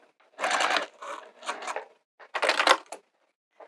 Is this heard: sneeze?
no